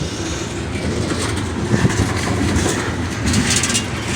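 A CSX freight train passes close by in reverse at a railroad line in Baldwin, Florida, its wheels rumbling and clacking loudly and steadily over the rails with no voices.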